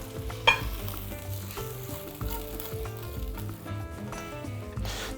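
A fried mixture from a pan is tipped into a pot of beans for a lenten grape-leaf dolma, then stirred: a soft, quiet sizzle with scraping and stirring clatter and a sharp knock near the start.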